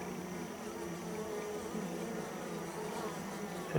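Honey bees swarm around a double medium horizontal Langstroth hive, their dense, steady buzzing droning close and loud throughout without a break.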